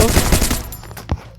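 Rapid burst of Mini Uzi submachine gun fire in the Free Fire battle royale game, loud and dense at first, then thinning into a few scattered shots with one final sharp report.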